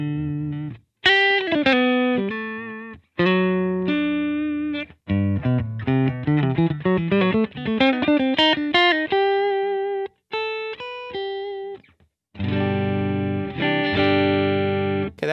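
An electric guitar played through distortion and effects on the neck pickup runs a lead line of bends and quick note runs broken by short pauses, with rich sustained harmonics and no voices.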